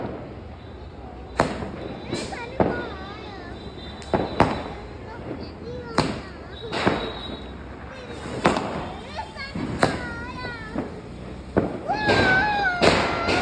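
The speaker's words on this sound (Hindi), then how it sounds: "पटाखे पटाखे चला लिए" Diwali firecrackers bursting outdoors during a family celebration, a string of sharp cracks and bangs at irregular intervals, some near and some farther off, with people talking and calling out between them.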